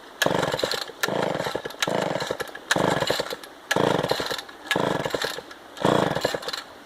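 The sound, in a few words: Homelite XL12 chainsaw engine running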